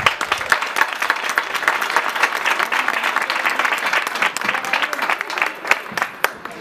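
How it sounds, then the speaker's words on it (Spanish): Applause from an audience at an Izquierda Unida candidacy presentation event in Benaoján, a dense wash of many hands clapping steadily, loud and close, with no talk over it. "Le damos un fuerte aplauso."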